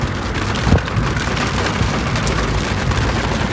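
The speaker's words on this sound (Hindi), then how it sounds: "बारिश, उफ, I was craving for बारिश यार।" Steady rain pours down outdoors, a dense, even hiss that holds at one level throughout with a soft thud near the start and no voices.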